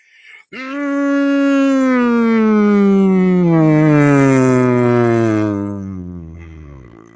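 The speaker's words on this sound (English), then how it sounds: "At the end, it sounded like sirens during World War II." An air-raid style siren holds a loud, steady wail for several seconds, then slowly winds down in pitch and fades away, with nothing else heard over it.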